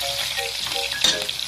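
Garlic and onion fry in a pan with a steady, close sizzling crackle and a brief stir partway through, no voices.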